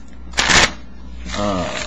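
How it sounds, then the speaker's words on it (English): Close-up card shuffling: a quick papery riffle burst of a deck, a pause, then a softer second flutter of cards, with a voice faintly present. "Shuffle up the deck a bunch"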